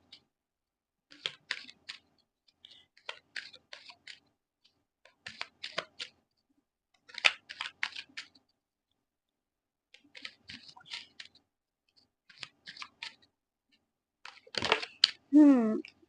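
Tarot cards shuffled by hand in bursts of crisp riffling and flicking, each lasting a second or two with short pauses between, ending in a louder, longer riffle with a quick fluttering sweep.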